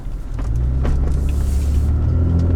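Deep, steady aftermarket exhaust rumble from a Toyota Tacoma pickup idling or rolling slowly nearby, loud and low-pitched throughout with no talking.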